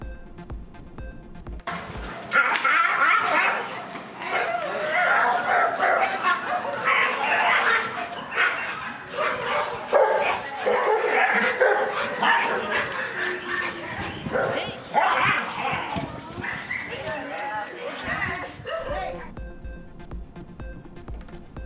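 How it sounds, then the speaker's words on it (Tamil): Two dogs in a violent street fight, one mauling and biting the other, recorded for a Tamil news report in Chennai: sustained frantic snarling, yelping and barking, loud and continuous for about twenty seconds with a brief quiet before and after. "இன நாய் ஒன்று திருநாயை ஆக்ரோஷமாக கடித்து கொன்ற பதைக்க வைக்கும் வீடியோ காட்சிகள் வெளியாகி அதிர்ச்சி"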